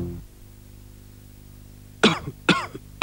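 Three loud, harsh coughs from one person, spaced about half a second apart, following a quiet low hum, with no speech.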